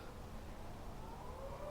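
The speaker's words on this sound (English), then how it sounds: "I hear some sirens going off." A faint siren wails in the distance at the Fort Duncan Civil War site, its tone slowly rising beneath low outdoor rumble.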